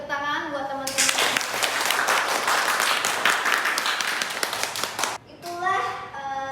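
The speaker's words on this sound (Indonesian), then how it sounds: "Kita beri tepuk tangan buat teman-teman." A group in a classroom teaching-practice session gives a burst of lively clapping that lasts about four seconds. A voice speaks before and after, and the applause cuts off abruptly.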